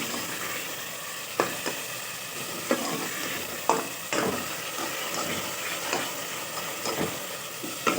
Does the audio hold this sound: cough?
no